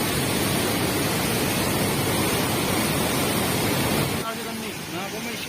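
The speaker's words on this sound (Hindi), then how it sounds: "बहुत ही विकराल रूप लेते हुए ये नदी।" A swollen river in flood in Uttarakhand roars with a loud, steady rushing wash close by, then drops suddenly to a quieter flow as a voice speaks over it.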